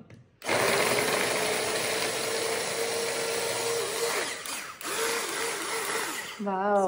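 Mixer grinder crushing ginger, a loud continuous whirring grind that runs steadily for several seconds, dips briefly, then resumes before cutting off.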